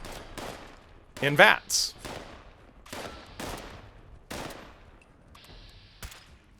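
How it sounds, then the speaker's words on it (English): Slow-firing gunshots in Fallout 76, several sharp, widely spaced cracks with trailing echoes, one burst louder than the rest, and someone speaking briefly between shots. "a gun that fires slowly like this"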